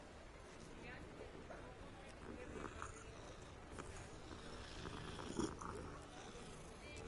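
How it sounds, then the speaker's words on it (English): Petting a cat in Hogwarts Legacy brings a soft, steady purr running low and faint beneath a busy ambient game soundscape, with light background murmur and a brief louder blip midway. "We pet the cat now."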